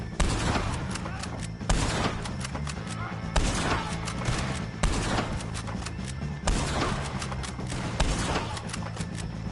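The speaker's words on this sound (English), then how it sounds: "If you can hear me, shoot some of these O'Driscolls!" A Red Dead Redemption 2 gunfight against O'Driscolls, with loud close bursts of gunfire coming in repeated volleys about every second and a half, over a busy game mix with voices.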